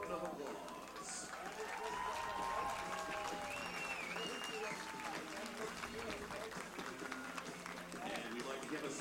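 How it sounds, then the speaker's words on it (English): Baseball crowd at a minor league ballpark applauding law enforcement members on the field during Law Enforcement Night, a steady wash of clapping and cheering with whistles and a talking voice over it. "please give these brave men and women a huge round of applause."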